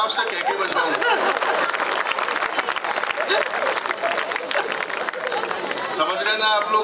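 Applause from the audience at a Hindi comic poetry gathering (hasya kavi sammelan), a loud, dense run of clapping mixed with crowd chatter and voices, swelling again at the end.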